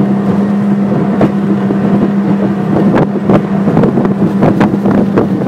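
A Quintrex 510 Cruiseabout motorboat cornering at speed, its outboard engine holding a loud steady drone under heavy wind buffeting and hull slap from the water.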